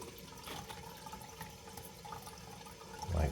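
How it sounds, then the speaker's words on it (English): Water runs into a toilet cistern through a float valve after the supply valve is reopened, a steady close hiss and trickle with a louder surge toward the end. "we have water going into the cistern"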